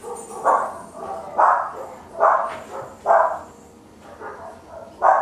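Dogs bark indoors in a steady series of about six loud, evenly spaced barks, nearby, with softer whines between them.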